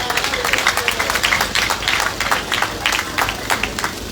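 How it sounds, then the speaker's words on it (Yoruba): Audience applause at a groundbreaking ceremony, a steady wash of many hands clapping throughout, fairly loud and close, with no talk over it. "Ẹ jọ̀ọ́ ẹ bá mi pàtẹ́wọ́ fún àwọn ọmọ mi wa."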